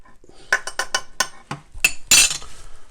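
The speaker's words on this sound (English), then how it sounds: "And I'll just give that a stir around." A utensil stirs food in a pot, producing a quick run of metallic clinks and scrapes against the pot, close and sharp, ending in a brighter clatter.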